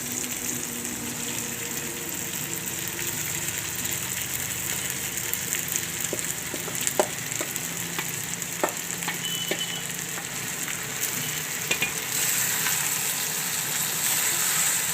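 Flattened rice (poha) going into a pan with potatoes and frying, a steady bright sizzle with scattered clicks and stirring scrapes, close and continuous with no talk.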